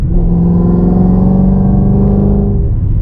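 A Ford Mustang engine fitted with long tube headers revs loudly, giving a deep, steady, close rumble that holds for about three seconds before easing slightly at the end.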